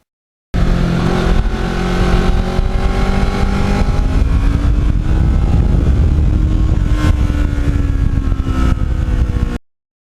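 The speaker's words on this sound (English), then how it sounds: "once you roll that throttle open, go through the gears a few times" A motorcycle engine revs loud and close, climbing through the gears in repeated rising sweeps with steady roar and no talking.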